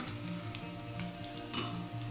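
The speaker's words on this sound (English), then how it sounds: "think you can already see it's already like frying already" Garlic frying in a pan at a cooking demonstration, a steady close sizzle with soft crackles and occasional stirring scrapes, no talking.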